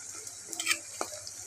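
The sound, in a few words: potatoes frying in a pan with salt and turmeric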